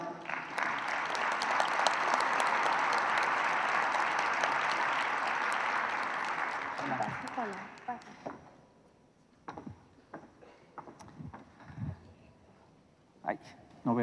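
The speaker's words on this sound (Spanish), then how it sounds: "Recibámoslo con un fuerte aplauso" Sustained applause from an audience at ITAM in Mexico fills most of the clip, then fades out, leaving scattered claps and shuffling sounds.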